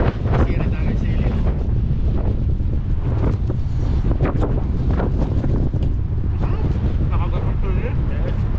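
Strong wind buffets the microphone on a boat at sea, a steady roaring rumble running through the whole stretch, with people talking underneath it.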